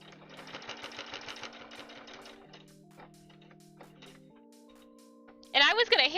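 A sewing machine stitches fabric in a steady rapid whir close by, with a person talking over it, and a louder burst of stitching near the end.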